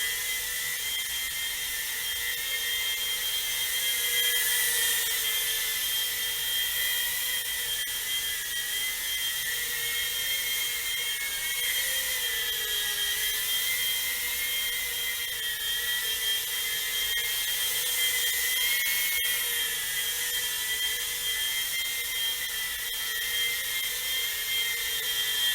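Small FPV quadcopter drone on its maiden flight indoors, a steady high-pitched whirring buzz of spinning props with slight pitch wavering as it hovers and moves, close and continuous throughout.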